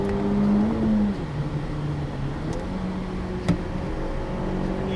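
A 2017 Honda Civic Type R engine hums and revs while driving, heard from inside the cabin as a steady low drone that rises briefly and then settles, with road noise underneath.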